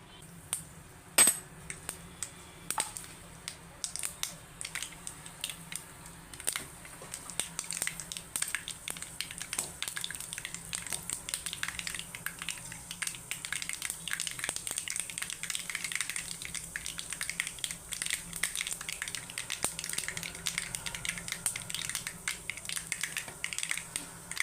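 Mustard seeds spluttering and popping in hot oil in a pan while tempering for rasam, a dense run of sharp crackles that thickens and holds steady, with no talk.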